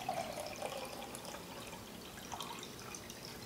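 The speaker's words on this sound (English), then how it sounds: "pour the water to the other container" Ozonated water pours from one container into another, a steady soft trickling splash lasting the whole moment, close by and fairly quiet with no talk.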